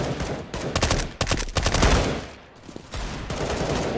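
Rapid bursts of automatic weapon fire in a first-person shooter video game, loud and close, with a brief lull partway through before the shooting resumes.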